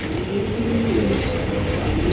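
A pair of racer pigeons cooing softly in low, throaty murmurs, close by, with faint background noise and no talk.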